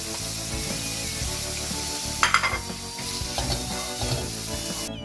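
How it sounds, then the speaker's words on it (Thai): Onion stir-fried in a pan for jajangmyeon alongside squid, with a steady sizzle under a backing track of music and a short burst of spatula scraping and clatter near the middle. "ใส่หอมลงไป หอมใหญ่"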